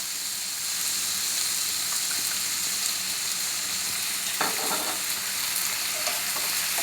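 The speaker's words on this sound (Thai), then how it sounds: "ผัดให้เข้ากันครับผม" Fresh mussels stir-fried with fresh chilies and oyster sauce in a hot pan, a loud, steady close sizzle with occasional scraping and clinking from stirring near the end, no talking.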